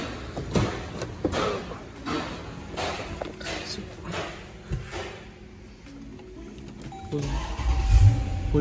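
A push-button-start car with an automatic gearbox fires up in a garage: quiet clicks and shuffling lead to the engine catching near the end, with a close, low rumble swelling up after the start.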